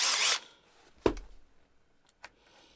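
A power drill in a workshop mills out material with one short, loud grinding burst at the start, followed by faint clicks and knocks and a brief tap near the end.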